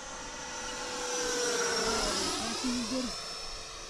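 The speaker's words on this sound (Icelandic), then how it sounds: "meira segja sko þotiljóð í þessari vél" An Eflite Havoc XE model jet flies past at an airfield, a loud, steady jet-like whoosh that swells and fades with a rising and falling tone, with a voice briefly heard near the end.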